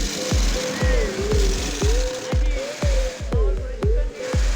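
An industrial sewing machine stitches jute rice sacks in a rhythmic series of heavy thumping strokes, roughly two per second, loud and close over a background hum, with faint voices in the workshop.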